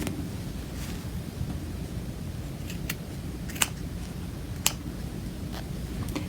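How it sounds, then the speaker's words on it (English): Scissors snipping fabric for a pin cushion project, a few sharp, sparse clicks spread over a steady hiss of background noise, close but quiet. "And then I would cut this. Find those scissors."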